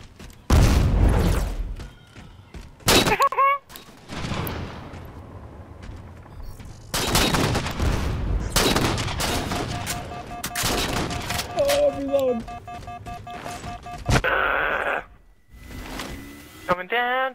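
Sniper rifle shots in the Halo 4 multiplayer match, several sharp, loud single cracks spaced apart with echoing tails, between quieter stretches of game sound effects and whirring mechanical tones.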